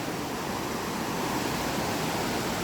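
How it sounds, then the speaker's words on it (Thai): A waterfall roars in a steady, dense rush of water that stays even and unbroken throughout, with no voices, at Pha Kluai Mai waterfall in Khao Yai National Park, Thailand. "นี่คือสภาพน้ำตกของน้ำตกผากล้วยไม้นะครับ"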